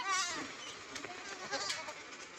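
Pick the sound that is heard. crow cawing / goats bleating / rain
goats bleating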